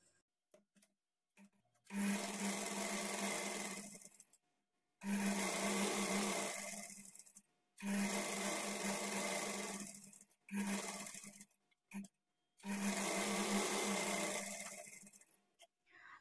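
A sewing machine stitches a folded half-inch edge on a blouse in several loud, steady bursts of two to three seconds each, with short pauses between runs.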